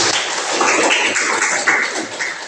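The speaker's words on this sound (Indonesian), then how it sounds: "Oke, kasih aplaus." Classmates in a classroom give a round of applause, dense close clapping from a group lasting a couple of seconds and trailing off.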